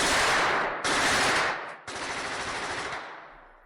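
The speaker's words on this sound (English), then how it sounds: "Panamanian machine guns open up and silence his cries." Sustained automatic fire from Panamanian machine guns during a nighttime airborne assault, loud dense bursts roaring almost continuously with two brief gaps, harsh and close, no talking.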